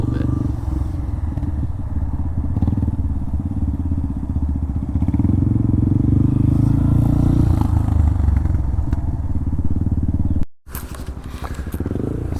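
Motorcycle engine running steadily near the microphone while a learner rider practises throttle and clutch control, the revs swelling and easing with a rough, uneven throb before a brief cutout and restart near the end.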